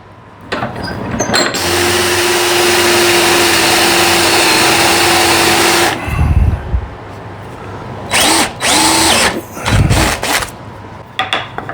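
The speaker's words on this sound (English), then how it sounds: "Now we got to drill some holes in the handle for the rope to run through." A power drill whines steadily for several seconds drilling rope holes in a wooden handle held in a vise, then stops, followed by a few short bursts of drilling and handling knocks up close.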